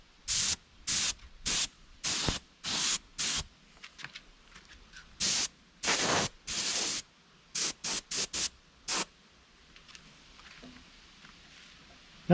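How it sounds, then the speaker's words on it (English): A spray gun applies sparkling gold pearl paint over a candy golden yellow base along the back of a smallmouth bass replica, in about fifteen short hissing bursts of uneven length separated by brief silences. "Then along the back I'm going to spray some sparkling gold pearl."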